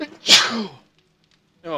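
A single loud, close sneeze from a person, followed by a short silence and then the start of a voice speaking.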